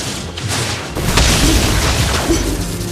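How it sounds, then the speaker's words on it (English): A booming explosion from a turret being destroyed in Mobile Legends, a loud, dense rumbling blast that fills the whole stretch with sustained roaring impact noise and no speech. "Our turret has been destroyed."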